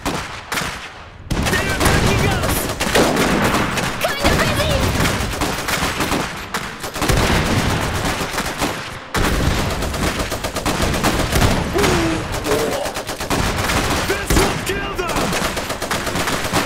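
Heavy machine gun firing in the video game Iron Harvest 1920, a dense, loud and continuous roar of rapid automatic gunfire with other battle noise, nearly unbroken throughout with only brief pauses.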